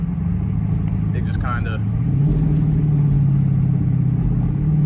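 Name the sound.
Dodge Charger Pursuit engine downshifting in Autostick mode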